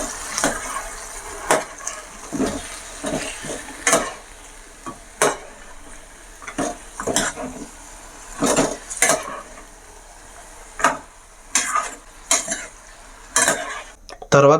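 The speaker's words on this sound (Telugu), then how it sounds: "అది వేసుకున్న తర్వాత మొత్తం ఒకసారి కలుపుకోండి." Chicken stirred with ginger garlic paste in a pot for a pulao, with irregular scraping and clanking of a spoon on metal over a faint sizzle, close and fairly loud, with no talking.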